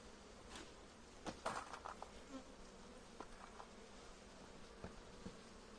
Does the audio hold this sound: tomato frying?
no